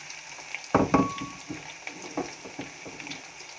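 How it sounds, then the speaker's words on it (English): Chopped onions hit hot egusi paste with a sudden loud sizzle, followed by softer crackling and scraping stirs as they fry in the pot. "we are going to start by adding our chopped onions"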